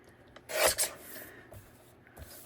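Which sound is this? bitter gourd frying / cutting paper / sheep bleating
cutting paper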